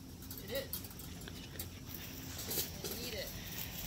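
Puppies play outdoors among bushes and weeds, giving faint whimpers and small yips over a quiet background, with soft rustling movement and a person talking now and then.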